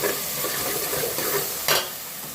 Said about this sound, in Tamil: சின்ன வெங்காயம், கொத்தமல்லி, புதினா அது ஒரு வதக்கணும்.